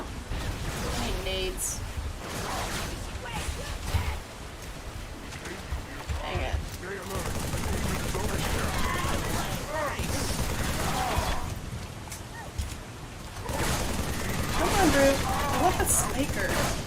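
Halo 3 gameplay gunfire, with bursts of weapon shots and battle noise running continuously under a player's talk throughout.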